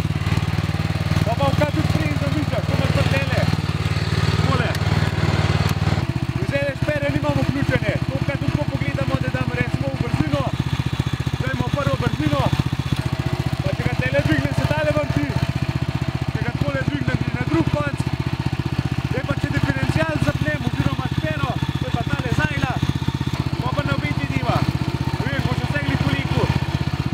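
A Muta Maestral two-wheel walking tractor with rotary plough and tiller runs its engine steadily throughout, a continuous near mechanical drone with a faint shift partway through, while someone talks over it.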